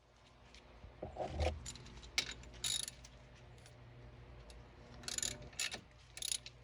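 A brake caliper bolt is tightened on a Kia Sorento during a front brake pad and rotor job, giving quiet ratcheting clicks in short bursts with metallic tool clinks, close up and faint.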